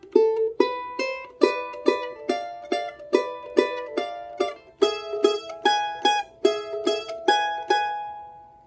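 Charango picking a short melodic phrase of Virgenes del Sol, bright plucked notes in a steady repeating rhythm, each attack ringing and decaying, played alone and close.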